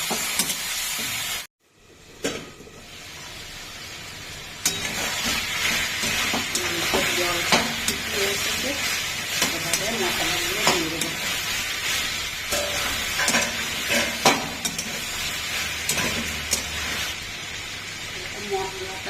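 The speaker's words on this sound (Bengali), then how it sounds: "এবারে আমি এর মধ্যেই মাংসটা দিয়ে ভালো করে কষে নেব" Mutton sizzles and is stirred in a pan for a Bengali goat curry, a steady frying hiss broken by scraping and clinking of the spoon, with a brief silent gap near the start.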